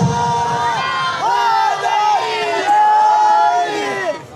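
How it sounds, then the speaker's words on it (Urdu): Small children chant religious slogans in unison at a gathering, loud, rising and falling voices repeating in a steady rhythm with some crowd murmur beneath. "چھوٹے چھوٹے بچے نعرے مار رہے ہیں"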